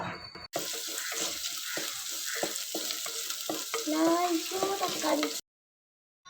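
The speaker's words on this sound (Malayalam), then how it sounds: "ഇഞ്ചും വെളുത്തുള്ളിയും ചെറുള്ളിയൊക്കെ താ എണ്ണയിലിട്ടാണ് നല്ലോണം ഒന്ന് അങ്ങോട്ട് വഴറ്റി അങ്ങോട്ട് എടുക്കുന്നുണ്ട്" Ginger, garlic and shallots sauté in hot oil with a steady, fairly loud sizzle and frying crackle, broken by stirring scrapes and clatter, cutting off abruptly near the end.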